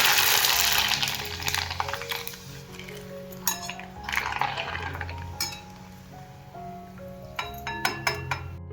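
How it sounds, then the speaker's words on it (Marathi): Rava papad frying in hot oil gives a steady sizzle and bubbling, with metal utensils clinking against the pan now and then. "असेच आपण आता सगळे पापड तळून घेऊ."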